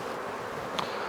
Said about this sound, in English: Let's just shake the bees off so we don't roll any bees